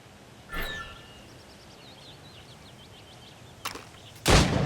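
Gunshots at shooting targets in Assassin's Creed Rogue: a sharp crack, a long quiet stretch with faint bird-like calls, then two more shots, the last one loudest, with no talking.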